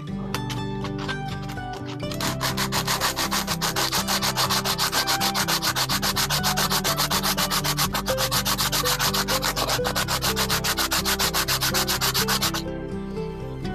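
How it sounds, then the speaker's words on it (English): A part being sanded by hand to ready it for epoxy against a rifle stock, fast rhythmic back-and-forth rasping strokes, close and steady for about ten seconds before stopping, with no talking. "sand one side, the side that's going to be making contact with the stock and ready it for some epoxy"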